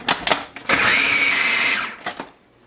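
Electric mixer whirring steadily for about a second through cherry marshmallow batter, a continuous high motor hum between short clunks and bumps before and after.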